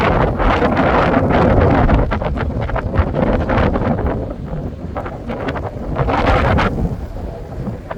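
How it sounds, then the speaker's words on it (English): Strong wind gusts roar steadily outdoors beside a creek near a fish hatchery and culvert, buffeting the microphone with broad rumbling noise that swells and eases throughout. "Wind's definitely coming up"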